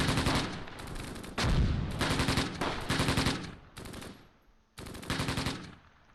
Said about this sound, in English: It just sounds like they're shooting from far to my left.